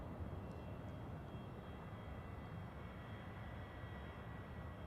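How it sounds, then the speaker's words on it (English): A Pilatus PC-24 business jet at Zurich Airport, a faint, steady broadband roar of the engines from a distance with no rise or fall in level. "is that a Pilatus PC-24?"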